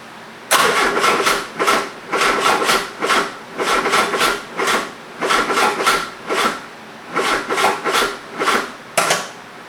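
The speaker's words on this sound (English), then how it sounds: "we're having some issues here getting it to fire up" A Subaru engine fitted in a Super Beetle cranks repeatedly without firing, a loud, close, rhythmic whirring churn in about a dozen even pulses that starts abruptly and briefly pauses between cycles; no one speaks.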